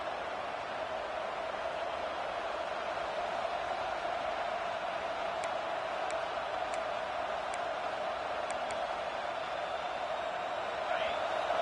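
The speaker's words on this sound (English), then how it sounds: "Listen to this crowd just shaking the girders of this place, trying to help their defense." A football stadium crowd roars steadily during a 1984 Happy Valley game, a dense sustained wash of noise with no breaks, loud and continuous throughout.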